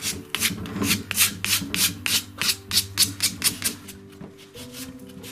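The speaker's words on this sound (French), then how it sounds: "je ponce les arêtes des différentes parties du meuble" Wooden furniture edges being sanded by hand for a vintage look, a steady series of about a dozen close, loud rasping strokes in a regular back-and-forth rhythm, with a brief pause near the end.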